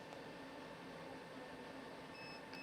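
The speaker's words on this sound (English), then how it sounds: "Hear that audible beep?" A Smeg super automatic espresso machine sounds a short high electronic beep near the end as it enters programming mode, over a steady low hum of room and appliance noise.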